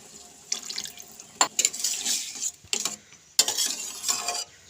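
Water runs in short splashing bursts as it is poured into a spiced masala for cabbage pakora curry, several uneven pours with brief pauses and faint clinks of utensils between them.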